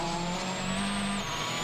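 A Citroën rally car driven by Loeb on a stage of WRC Rally Portugal 2007, struggling for grip, its engine holding a steady loud high note throughout, close and continuous with no talk.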